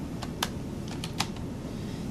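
Faint, sparse keystrokes on a computer keyboard: a few separate clicks spaced irregularly over a steady low background hum, with no voices.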